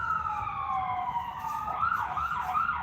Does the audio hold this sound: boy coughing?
no